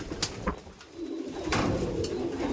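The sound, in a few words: racing pigeon chicks and pigeons cooing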